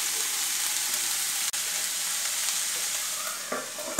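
Green beans thoran cooks in a covered pan, giving a steady, dense sizzle and hiss that runs unbroken throughout, with one brief dip and a few faint clicks near the end.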